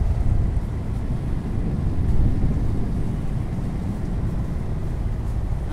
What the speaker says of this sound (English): It's picking up the engine noise